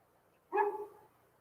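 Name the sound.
neighbor's dogs barking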